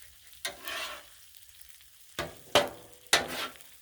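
Crunchwrap filling sizzles on a Blackstone griddle as it is stirred, with bursts of frying hiss and scraping at irregular intervals, loud and close, separated by short quiet gaps.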